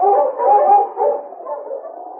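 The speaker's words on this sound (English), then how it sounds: "Suddenly, he barked eagerly" Husky dog barking eagerly as a radio drama sound effect, a run of close, loud yelping barks and howl-like cries in quick succession with no talk.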